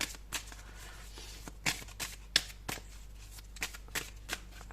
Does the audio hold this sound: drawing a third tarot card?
yes